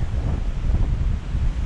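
Strong, freezing wind at Lake Lonsdale with whitecaps on the water, a steady low roar buffeting the microphone with no pauses or voices.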